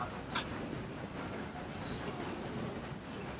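A train rumbles steadily along the tracks in the Red Dead Redemption 2 video game, a continuous close, low rolling roar with faint rattling and clicking from the cars, heard without talking.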